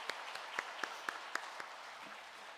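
A church congregation applauds after a choir's hymn, a soft, diffuse wash of clapping with a few sharper, evenly spaced claps standing out, fairly faint and distant before fading at the end.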